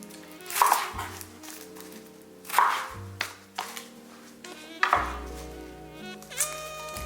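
A knife slices a sweet onion lengthwise on a board, giving about four distinct cutting strokes spaced a second or two apart, close and moderately loud, with no talking.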